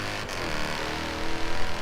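Engine of a Mercedes C63 AMG Coupe Black Series in the racing game Forza Horizon 3, a steady loud tone that swells slightly toward the end, with a faint voice.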